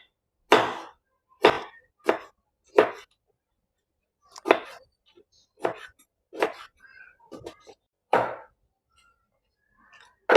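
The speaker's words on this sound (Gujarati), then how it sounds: "તો અહીંયા આપણે ટામેટાના પણ સેમ નાના નાના ટુકડા કરી લઈશું." A knife chops tomato into small pieces during snack prep, about ten sharp, close chops in an uneven rhythm separated by brief pauses, with no voices.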